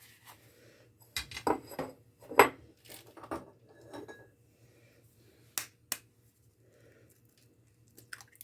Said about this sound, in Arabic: جبت عندي بوله هكسر فيها البيض